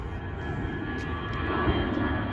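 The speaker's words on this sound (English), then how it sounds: "this is already the third airplane I've seen since I got here" A steady low rumble of an airplane engine passing overhead, continuous and fairly loud throughout, with no voices.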